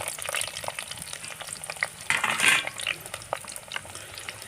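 Cut onions fry in a pan as the base of an eggplant curry, a close, steady crackling sizzle with soft stirring scrapes and a brief louder burst midway.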